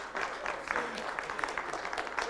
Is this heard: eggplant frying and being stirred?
no